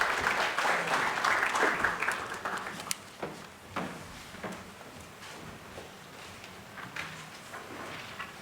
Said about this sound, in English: a round of applause for President